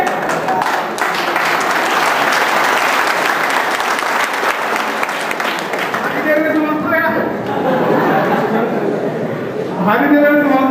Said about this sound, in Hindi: तुम ताली बजा रहा है।